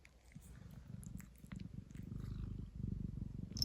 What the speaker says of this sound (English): My cat is like licking me.